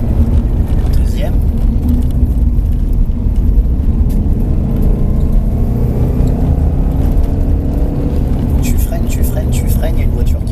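A car on a driving course drones and whirs steadily at close range, engine load shifting as it accelerates and brakes, while a voice talks over it throughout.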